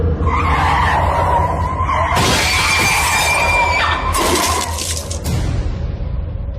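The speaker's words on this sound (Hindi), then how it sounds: "अचानक से ब्रेक्स लगी और झटके की वजह से रेखा सामने विंड स्क्रीन को तोड़ती हुई कार के सामने जा गिरी" A car brakes suddenly with a loud tire squeal and skid, and a windscreen shatters in a sharp burst of breaking glass, close and dramatic, with no talking.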